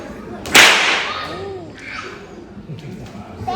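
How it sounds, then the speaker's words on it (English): A horse rider cracks a whip once, a sharp, loud snap followed by a fading swish and some faint background noise, at a wildlife park near Perth, Australia. "Now when we crack the whip, we are riding on the horse, and we have to be very careful not to hit the horse."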